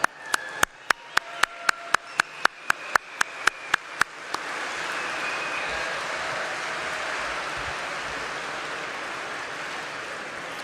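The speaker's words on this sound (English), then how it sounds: "Please stand up and let's give them all a round of applause." A round of applause from an audience at a county Republican Party Lincoln event honoring volunteers: a few sharp, evenly spaced single claps, then a dense, steady wash of crowd clapping that holds for several seconds.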